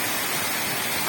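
A continuous hiss and rush of water spilling over the Tsaritsyno dam from the upper pond into the middle pond, running out from beneath ice. The sound is dense, even and nearby.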